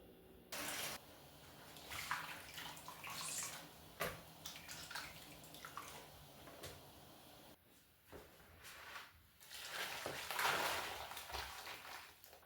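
Hot water poured over seasoned beef in a pot for a Haitian beef sauce, a faint, steady splashing and gurgling stream that runs almost continuously.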